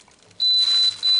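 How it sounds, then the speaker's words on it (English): A Gourmia French Door XL air fryer oven emits a high, steady electronic beep, two tones in quick succession, close and clear. "Sorry about the beeping, I can't stop that."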